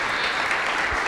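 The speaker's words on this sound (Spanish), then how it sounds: "Entonces, merece un aplauso." A seminar audience at a clinical leadership forum applauds an interpreter, a dense, even wash of clapping filling the whole brief moment.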